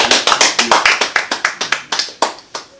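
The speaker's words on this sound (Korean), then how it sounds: "박수 한번 쳐주면 고맙겠습니다." Members at an annual general meeting applaud together, a steady run of sharp, close hand claps filling the room with little else heard.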